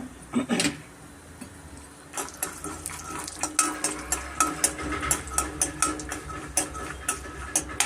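Cumin, mustard seeds and peanuts fry in hot oil over a medium flame, with a steady crackle and repeated spoon scrapes and taps against the pan, close and fairly loud.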